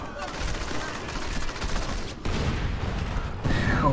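Grenade launcher fire and blasts in the video game Crackdown, dense bursts of gunfire and explosions stacked over one another, with abrupt shifts in loudness and a sharp crack near the end.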